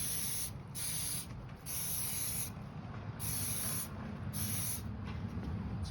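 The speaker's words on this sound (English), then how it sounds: "So as you can see, it's kind of like spray paint." Kiwi boot waterproofer sprayed from an aerosol can onto Wolverine Wellington boots, loud close hissing bursts in several repeated sprays of about half a second to a second, over a steady low background rumble.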